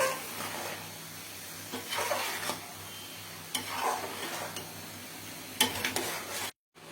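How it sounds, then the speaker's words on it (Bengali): Ghee being mixed into a thickening coconut milk naru mixture in a pan, intermittent scraping and stirring strokes over a faint sizzle, close and fairly quiet, ending abruptly. "ঘিটা আমি মিশিয়ে নিচ্ছি"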